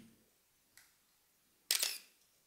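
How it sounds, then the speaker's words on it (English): A faint click followed by one crisp, close focal-plane shutter release from a Pentax Spotmatic SP film camera, with a short mechanical snap and whir. "the sound of the shutter is very pleasing to me"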